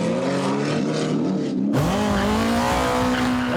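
A race car runs hard on a tarmac circuit, engine note climbing then dropping sharply as a gear change lands, followed by a strong, steady drone close by.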